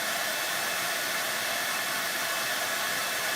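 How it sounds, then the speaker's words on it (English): A handheld blow dryer runs continuously at close range, a steady, loud whooshing hiss as it blows stray gilding leaf off a moulded, milk-painted valentine decoration. "the blow dryer gets rid of all the stray leaf"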